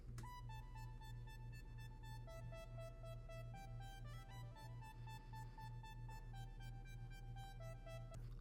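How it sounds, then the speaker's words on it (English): A Buzzy Synth preset synthesizer playing a stepping melodic line in a song outro, over a pulsing low bass and beat, steady and fairly quiet in the mix with no voices. "And then I introduced this thing called the Buzzy Synth."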